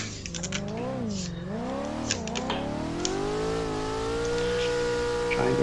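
A C5 Z06 Corvette engine revs up and down, then climbs into a sustained, loud drone with rising pitch. Faint clicks and background noise sit underneath.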